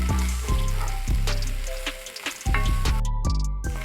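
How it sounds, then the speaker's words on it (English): Diced onions hit hot oil in a pan and sizzle loudly, with repeated crackling pops and spitting bursts, close up and with no voices. "Now we're gonna throw in half of our diced onions."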